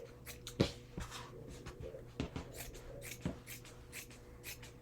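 Scissors cutting a triangle of fabric from a thrifted shirt, close and quiet, with a series of separate crisp snips and soft fabric rustling between them and no talk.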